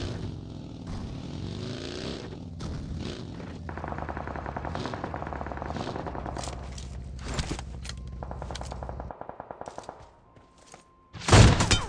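Rapid automatic gunfire bursts from a PUBG Mobile Conqueror-rank solo match, loud and close, with footsteps and vehicle-like engine hum underneath and a sharp final burst of shots.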